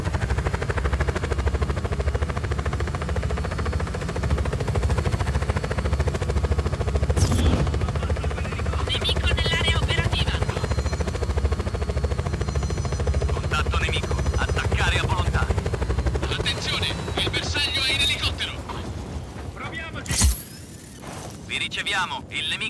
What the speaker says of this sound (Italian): Il nemico è in elicottero.